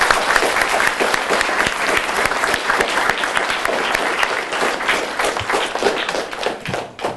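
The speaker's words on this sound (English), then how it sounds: "So let's give them a round of applause." A school audience gives dense, sustained applause for police officers at an event, many hands clapping together loudly and evenly, tapering slightly at the end.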